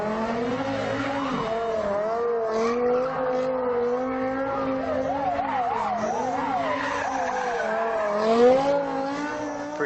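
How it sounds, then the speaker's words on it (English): A simulated car spins in donuts with its tires skidding, a continuous loud squeal with wavering pitch that rises and falls over the engine drone for the whole stretch. "Pretty cool to make your car do donuts, right?"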